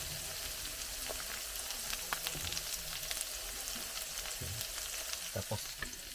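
Onion and garlic fry in a pan, a steady soft sizzle with scattered crackles and pops, heard alone at moderate distance with no talk.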